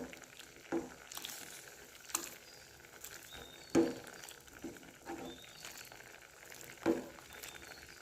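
Coconut milk and pumpkin simmer in a pot for a wattakka curry, giving a faint, steady bubbling sizzle with occasional soft taps and stirring knocks, close by and with no talk.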